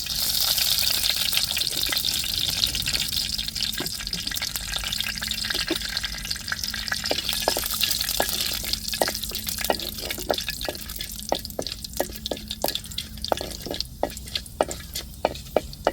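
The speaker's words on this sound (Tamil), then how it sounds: "வெந்தயம் நல்லா பொரியட்டும்" Fenugreek seeds frying in hot oil: a dense crackling hiss with many quick popping ticks that grow sharper and more frequent toward the end, close and alone.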